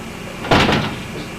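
A cat knocks against something indoors, giving one brief muffled thump like a door or cupboard bump, close by against a faint room hiss.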